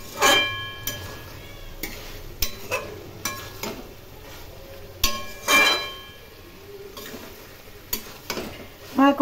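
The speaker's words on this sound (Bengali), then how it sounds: "এখন ভালো করে কষিয়ে নেব।" Soya chunks and jackfruit curry being sautéed in a pan, with repeated scraping stirs and clattering knocks of the spatula over a steady low sizzle, loud and close.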